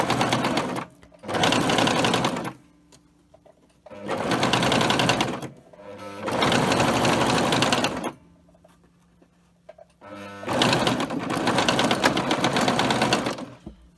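A sewing machine runs a long straight stitch in white thread across a pleated fabric face mask. It whirs in five steady bursts of one to four seconds, separated by short quiet pauses, close and clear.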